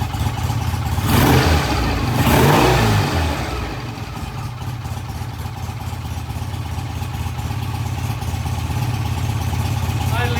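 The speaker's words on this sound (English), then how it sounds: "Bike sounds really good, really healthy. Idles nicely. Revs smoothly." A vintage British motorcycle engine revs up twice in quick surges, then settles into a steady, even idle around 1100 RPM, close to the microphone.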